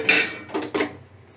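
Vermicelli goes into a cooking pan for upma with a few quick metallic clinks and scrapes of utensil against pan, heard close up in a short cluster of three taps before fading.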